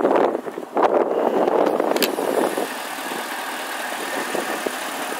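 A 2006 Sea Ray 240 Sundeck boat engine idles with its captain's call exhaust, a steady low rumble heard outdoors with some wind noise across the microphone.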